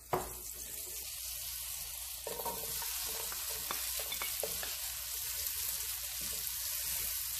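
Butter melting in about two tablespoons of olive oil in a pan gives a steady, soft sizzle with faint stirring taps and scrapes throughout, no voices.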